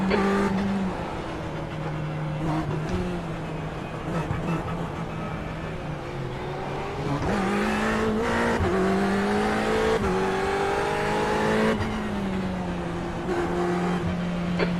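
Race cars circle a track, their engines droning loudly and steadily, with tones that swell and sag as gears change and cars close in, plus a few sharp passing surges over about fifteen seconds.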